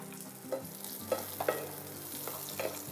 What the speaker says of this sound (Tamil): இப்போ சீரகம் நல்லா பொரிஞ்சு வர டைம்ல இது கூட கொஞ்சமா வெங்காயம் சேர்த்துக்கலாம்